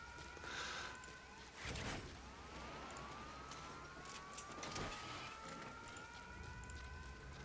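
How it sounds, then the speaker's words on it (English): Distant sirens rise and fall under gameplay noise in Metal Gear Solid V: an old-style police siren with an air raid siren sweeping slowly upward, faint, with muffled thumps and rumble. "Why do they have like a police siren from the 80s and then like an air raid siren?"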